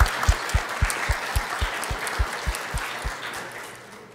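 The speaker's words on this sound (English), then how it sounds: "another round of applause" Conference audience applauding after a keynote talk, dense clapping with a few distinct louder claps near the microphone at a regular beat, gradually fading out toward the end.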